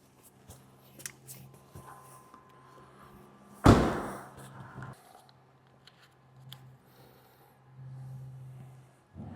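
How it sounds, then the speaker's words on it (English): A single solid car door thud lands close by in a quiet space, followed by faint rustling and low background hum. "Close it up, close the doors"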